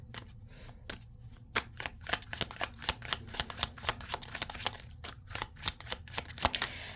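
A deck of tarot cards is shuffled close up as a rapid, uneven flutter of crisp card slaps and riffles that continues throughout at moderate volume, with no talking.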